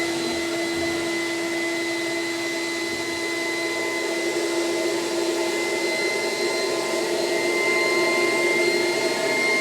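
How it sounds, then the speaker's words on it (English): A CECOR battery-powered Sump Shark SD15 pump runs with a steady, loud whining drone as it sucks fluid through a filter into its tank, with no talking. "So now we're going to suck the fluid out. It's going to go through the filter into the tank. Hit the start button."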